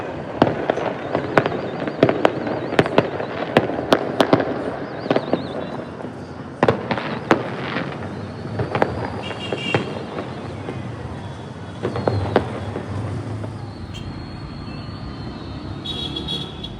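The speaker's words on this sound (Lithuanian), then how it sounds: "Jo, fejerverkai prasidėjo." Fireworks burst over Giza, Egypt, near the pyramids, with repeated sharp cracks and booms in irregular clusters, some loud and others more distant, above a low background hum of traffic.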